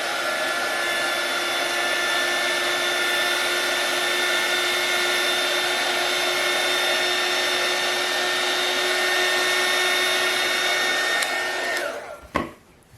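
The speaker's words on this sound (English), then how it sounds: "I could take my heat tool and just" A heat tool blows hot air steadily to dry paint on a barn quilt, a loud, constant whirring hiss with a high whine that holds for about eleven seconds before the tool switches off and winds down.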